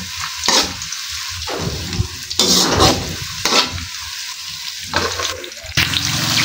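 Eggplant frying in a pan and being stirred, with loud, close sizzling and several bursts of scraping and tossing between quieter stretches of crackle.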